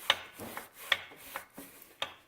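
Sharp, uneven knocks and clicks repeat a few times from the worn piston and cylinder of a 2012 Polaris Sportsman 500 ATV engine. They sound close up and fairly quiet against a low rasping background.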